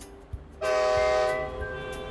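A train horn blares loud and sustained after a short quiet start, its steady multi-tone blast holding close and then easing slightly as it continues.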